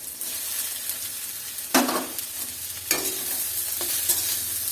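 Fragrant taro goes into a pan of lightly fried tomatoes, giving a steady soft sizzle broken by a few sharp spatula scrapes and knocks against the pan, with no talking.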